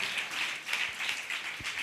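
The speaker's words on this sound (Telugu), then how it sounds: "చప్పట్లు కొట్టి ప్రభుని కనపడదాం." A worship congregation claps hands together in church, a steady rhythmic wash of many palms striking in unison on a repeating beat, moderately distant and continuous.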